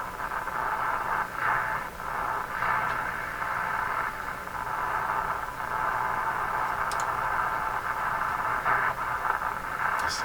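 A Canadian RCA Victor Model 5T5 radio receives a very weak signal, giving steady hiss and static with faint fluttering fades and occasional small ticks, continuous and moderately loud with no talking.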